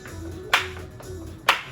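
Two crisp single hand claps about a second apart during a seated chair interval workout, loud and close over quiet background music.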